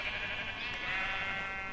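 A sheep in the Minecraft video game bleats in a steady, wavering call that holds for nearly two seconds at moderate volume.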